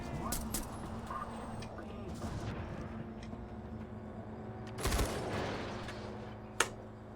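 Gunfire aimed at a vehicle's tires in Far Cry 4, heard as scattered sharp shots, one strong burst and a crisp single crack near the end, under steady engine rumble and a talking voice.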